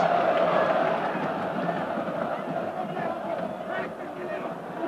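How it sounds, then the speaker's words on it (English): Football fans in a packed stadium roar and cheer as a sustained, broad wash of crowd noise at a Galatasaray versus Manchester United match, while a commentator talks over it. "It's got the fans on their feet and cheering again."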